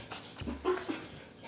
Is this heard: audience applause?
no